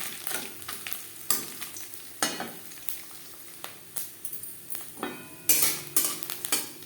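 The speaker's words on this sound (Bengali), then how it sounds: "নারকেল ভাজা হয়ে গেছে" Grated coconut fries in hot oil with bay leaves in a pan, giving a steady soft sizzle broken by repeated scraping and clinking stirs of a spatula against the metal.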